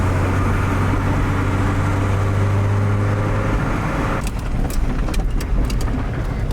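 An old car engine of uncertain running history cranks with a steady low drone that continues for several seconds. Near the end it gives way to a burst of sharper clicks and clatter, with no talk.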